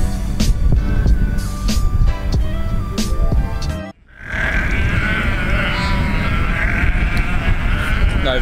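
Sheep and lambs bleat repeatedly while being gathered by a dog for loading into a trailer on a farm, loud and close over a busy rumble of livestock and engine noise, with a brief drop near the middle.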